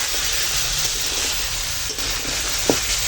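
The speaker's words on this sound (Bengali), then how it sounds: "আর স্বাদ মতো নুন দিয়ে এখন কাঁকড়াটাকে কষাবো" Crab with turmeric, chilli powder and salt being sautéed over a wood fire, a steady hissing sizzle with occasional stirring scrapes and one sharp clink, close and alone without talk.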